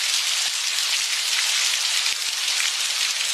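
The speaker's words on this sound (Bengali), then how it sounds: "বৃষ্টি এতটাই জোরে পড়ছিল যে আমান ভয় পেয়ে কাঁপতে লাগল" Heavy rain pours down in a jungle storm, a dense, even hiss of drops hitting surfaces with a few soft low thumps scattered through it, steady and unbroken with no voices.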